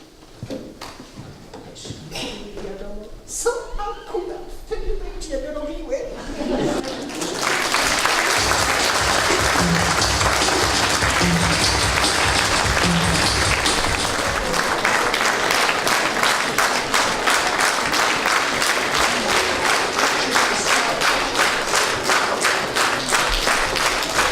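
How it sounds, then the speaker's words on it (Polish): An audience applauds a Polish stage comedy performance: after a few seconds of voices, dense, loud clapping starts and carries on steadily to the end, with a speaker's voice briefly heard under it. "serdecznie, serdecznie dziękujemy za te brawa"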